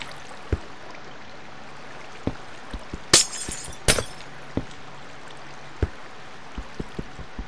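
Glass blocks breaking in Minecraft, two bright shattering crashes a little under a second apart, surrounded by soft clicking footsteps and taps, heard on their own without talk.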